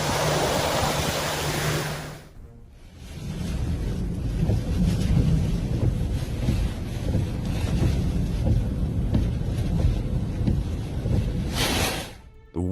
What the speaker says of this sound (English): The waves unleashed their full power, and this car got an unexpected car wash.